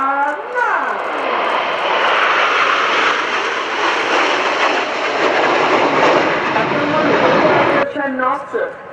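An aircraft performing a display at the RIAT Fairford airshow roars past in a loud, sustained jet rush that swells and fades, with a commentator talking over the start and end.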